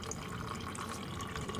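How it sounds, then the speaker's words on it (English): Windshield washer fluid draining from a 2004 Chevrolet Silverado into a container, a faint continuous trickle and splash of liquid heard alone. "So I will just let that drain and salvage as much as I possibly can."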